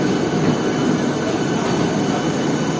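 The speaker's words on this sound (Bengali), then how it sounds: "আমাদের এক নম্বর প্ল্যাটফর্ম থেকে ছেড়ে দিল রানাঘাট গ্যালোপিং এসি লোকাল" The Sealdah-Ranaghat galloping AC local train pulls out from platform one with a loud, steady rumble of wheels and carriages, close by, with a faint high squeal on top.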